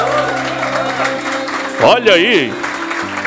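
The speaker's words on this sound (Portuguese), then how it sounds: "Uma salva de palmas" Wedding guests clap for the newly married couple, a moderate scattered applause heard under cheering voices and a brief excited shout partway through.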